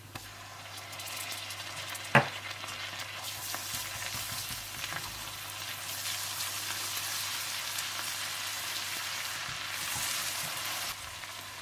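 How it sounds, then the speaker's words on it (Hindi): Steady, close sizzling of ground ginger and garlic frying in hot oil in a pan, with one sharp clink early on; no voices. "आप इसमें पिसा हुआ अदरक लहसुन डालकर भून लें"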